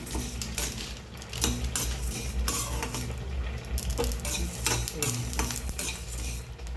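Mustard seeds fry in a pan while being stirred, as part of making broiler chicken pachadi; a steady close sizzle runs throughout, with repeated scraping stirs and light utensil clinks and no talking.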